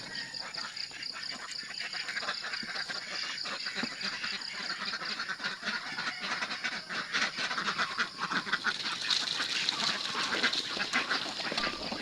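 Backyard itik ducks crowd around their drinking trough, quacking and honking in a busy, continuous chorus with splashing and shuffling, fairly close and steady throughout with no talk.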